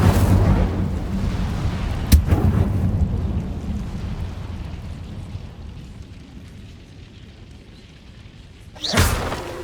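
A fire spell cast in the Hogwarts Legacy video game, heard as a loud rumbling roar that fades over several seconds, then a sharp whooshing burst near the end.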